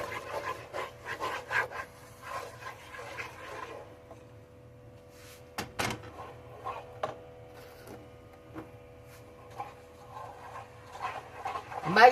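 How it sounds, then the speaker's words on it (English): Peanut butter fudge mixture of peanut butter, vanilla and powdered sugar stirred in a bowl, giving soft, irregular close rubbing and scraping strokes with a sharp knock or two, and no talk. "Make sure you stir it. Keep on stirring, stirring, stirring until you get it all stirred up."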